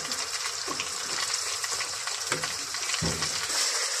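Garlic paste and chili frying in a pan, a steady close sizzle with stirring scrapes and a few sharper clanks of a spoon against the pan.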